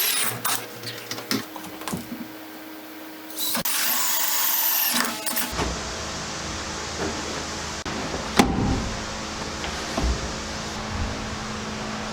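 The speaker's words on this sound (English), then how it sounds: "get a hole drilled for the 3-inch pipe that's going to run down this wall to make the main stack" A power drill bores holes through a wall for a 3-inch drain pipe during home construction, with bursts of grinding and whirring, a sustained loud run midway, then quieter steady mechanical noise and occasional knocks.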